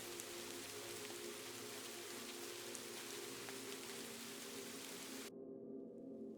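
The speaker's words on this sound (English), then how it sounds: "The rain falls." Soft, steady rainfall on a night in Kyoto, Japan, a faint even hiss with scattered drops, cutting off abruptly near the end.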